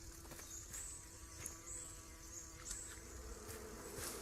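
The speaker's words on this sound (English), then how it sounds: "Or there's bees. Okay, there's bees." A soft bee buzz in the video game Green Hell drones continuously at low volume, with faint high chirps recurring at intervals over a steady background hum.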